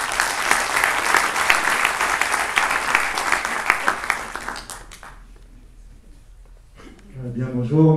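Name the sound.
audience applauding Hervé Gillet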